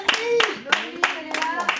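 A small audience claps for a performer at a show, several separate handclaps in an uneven pattern, mixed with overlapping voices and chatter.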